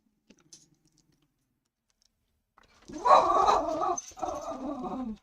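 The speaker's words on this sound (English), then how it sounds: "you hear my crazy dog in the background" A dog barks and growls excitedly in a home during a live stream, reacting to someone outside the window; a faint click comes first, then a loud burst of barking up close, alone with no talk.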